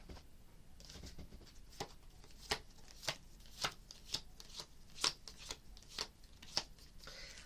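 Tarot cards are handled and shuffled in a quiet room, giving a series of soft, crisp flicks and taps at irregular intervals against a low hiss.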